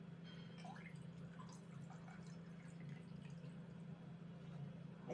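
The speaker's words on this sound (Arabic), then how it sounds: "هنا غادي نزيد كاس تاع الماء سخون" Hot water poured from a glass into a pot while making Moroccan tanjia with cow's feet and honey: a steady, quiet splashing and trickling that runs continuously over a low background hum, with no talking.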